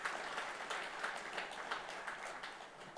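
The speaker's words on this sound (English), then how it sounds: "with a nice big resounding round of applause" An audience at the 2019 South India Media Summit claps in a steady, continuous round of applause, quiet and somewhat distant, with no voices over it.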